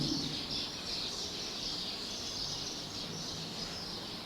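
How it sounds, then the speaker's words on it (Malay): Birds chirp and call steadily in a FELDA plantation setting, a dense, continuous high-pitched chorus mixed with insect-like buzzing at moderate volume, with no talking. "Burung-burung berkicauan."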